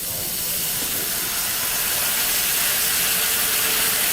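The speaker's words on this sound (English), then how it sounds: "And now we're going to add water to the pan." Steady loud hiss of water steaming and sizzling in a hot pan, continuous broadband noise with no voices.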